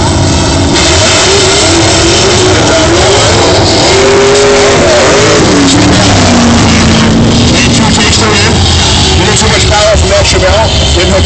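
A big-block '65 Chevelle with an automatic faces a Buick GS 400 Skylark at the drag strip, with loud, continuous V8 roar and rising, shifting revs up close, plus a voice faintly under the engines.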